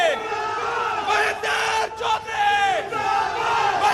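Crowd cheering and shouting at a Mehrauli political debate event as Congress leader Mahendra Chaudhary is welcomed, loud continuous yelling with whistle-like tones rather than clear clapping.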